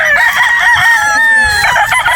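A Sweater Boston gamefowl rooster at a Batangas game farm gives one loud, close crow with a drawn-out, slightly falling tone.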